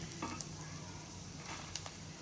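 Roasted gram (hurigadle) crackles and sizzles softly in a pan while cooking for spicy masala puffed rice, a faint continuous frying hiss with light pattering pops and stirring sounds.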